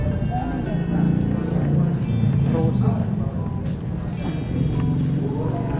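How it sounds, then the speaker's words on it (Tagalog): Street traffic thick with motorbikes rumbles steadily throughout, engines droning close by with passing whines, while a person talks over the noise. "Daming motor."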